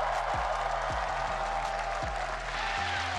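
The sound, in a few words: crowd cheering at an esports match, MSI 2025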